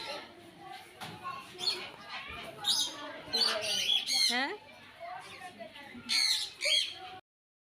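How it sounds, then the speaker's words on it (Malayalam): Colourful parrots squawking in a park aviary in Malappuram, harsh close calls and chirps repeating in bursts, with a person talking among them. "ക്യൂട്ടായിട്ടുള്ള പല കളർഫുള്ളായിട്ടുള്ള തത്തകളെ നമുക്കിവിടെ കാണാം"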